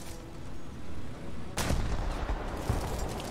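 Gunfire in a War Thunder ground-forces battle: a dull background rumble, then a sharp, heavy report followed by further booming shots, moderately loud and not close.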